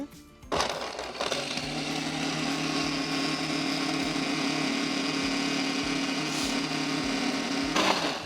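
A kitchen blender whirs steadily while blending pesto of olive oil, garlic, parsley and fresh basil, starting abruptly, holding a constant motor drone with grinding texture, then cutting off.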